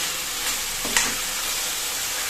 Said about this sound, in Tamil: இதை நல்லா பச்சை வாசனை போக வதக்கிக்குவோம்